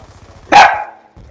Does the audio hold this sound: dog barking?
yes